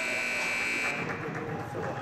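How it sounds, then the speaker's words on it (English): A loud end-of-period buzzer at a youth 16U ice hockey game sounds steadily for about a second, then cuts off into arena chatter and crowd noise. "Wait, Dr. Scott, wait for that buzzer."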